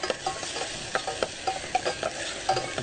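Onions frying in a pan are stirred with a utensil, giving a steady close sizzle broken by repeated scraping strokes in an irregular rhythm, with no voices.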